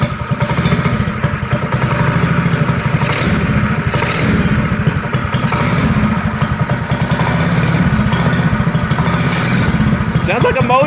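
A homemade gas scooter engine runs steadily, with a loud, close, rapid chugging putter like a small motorcycle and a slight clatter throughout.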